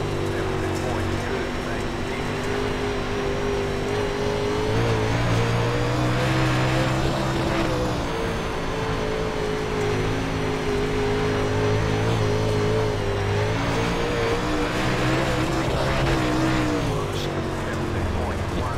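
Sim-racing engine sound of a UMP Modified dirt car lapping Eldora in iRacing, a steady droning engine tone that rises and falls with throttle throughout, continuous and loud, with a voice talking over it.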